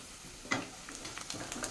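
Sliced onion sizzles in a hot pan for a rice pulao with rajma, with a few soft stirring scrapes and crackles, close and fairly quiet.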